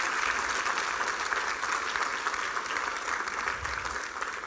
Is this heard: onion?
no